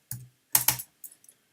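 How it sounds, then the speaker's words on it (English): Several quick keystrokes on a computer keyboard, sharp and close, come in short bursts with gaps between them while a math equation is being typed. "Let's create an equation with Command Y and type in something."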